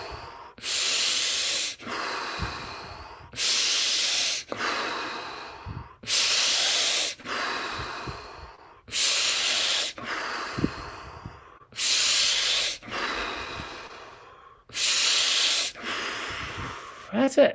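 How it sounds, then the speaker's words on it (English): Deep, rhythmic breathing during a circular breathwork exercise: strong hissing inhales and exhales alternate in regular cycles, close and loud, six full rounds with no talk. "I'll do that circular breathing. I'll fill up my belly, chest, head."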